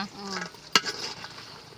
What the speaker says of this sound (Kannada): ಒಗ್ಗರಣೆ ಮಾಡ್ಕೊಳ್ಳೋಣ ಈಗ.